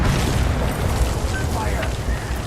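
Artillery fire in Metal Gear Solid V: The Phantom Pain: a loud, continuous barrage of deep booms and rumbling blasts running unbroken throughout, with voices mixed into the din.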